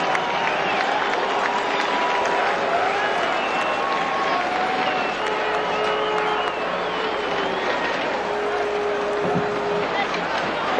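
A stadium crowd at a 2006 college football game between Boise State and Fresno State claps and cheers in sustained, dense applause for several seconds, with a faint voice underneath.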